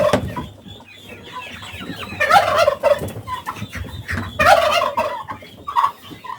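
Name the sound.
turkeys gobbling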